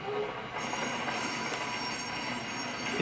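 A Union Pacific train runs on rails in the BeamNG video game, with a steady loud rolling roar and sustained high wheel squeal throughout.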